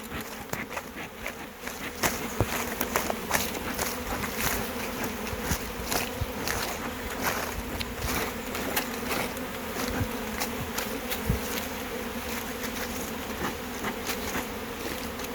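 Dense, steady buzzing of many bees around a hive close by, a continuous swarm drone with occasional sharper clicks and knocks.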